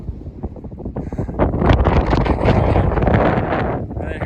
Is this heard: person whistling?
no